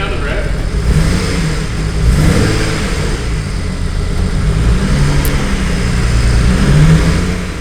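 A BMW 335i with a power-loss fault engages in rising and falling engine revs, a loud mid-pitched vroom swelling twice over a steady idle close by, with voices talking in the background.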